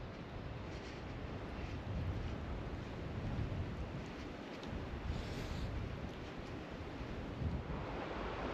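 A cold north-easterly wind blows steadily over a river. It makes a continuous broadband rush with buffeting against the microphone, loud and unbroken, with no voices.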